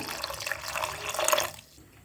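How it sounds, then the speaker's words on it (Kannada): Water runs briefly into a pot of Malenada Brahmin-style kalale huli curry, a short close splashing pour that stops abruptly near the end. "ಇದಕ್ಕೆ ನೀರನ್ನ ಸ್ವಲ್ಪ ಹಾಕ್ತಾಯಿದ್ದೀನಿ"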